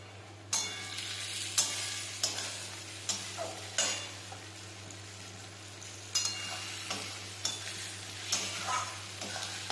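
Onions frying for beresta in a pan, a steady sizzle punctuated by a dozen or so sharp stirring clicks and scrapes of a spatula at irregular intervals, close and alone without talk.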